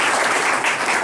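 Dense, steady clapping from a village gathering crowd at a panchayat government building event in Bihar, a continuous wash of many hands close by with no voices above it.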